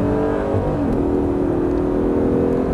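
On a track, a Ferrari 458 race car engine revs hard and loud, its pitch rising as it accelerates in a continuous roar with no voices.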